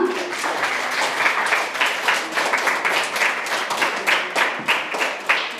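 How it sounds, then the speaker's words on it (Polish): Audience at a school reading competition applauding award winners, close, lively clapping with a loose rhythmic pulse carrying on steadily throughout. "Brawa."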